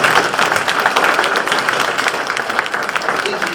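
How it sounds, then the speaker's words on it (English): Lively applause from a university town hall crowd, loud dense clapping with sharp individual claps, close and sustained throughout. "let's give a round of applause for that"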